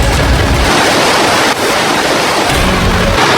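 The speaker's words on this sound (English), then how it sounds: "this river actually runs throughout the entire cave" An underground river rushes through a cave, a loud, continuous broadband roar of churning water that briefly dips midway before surging on.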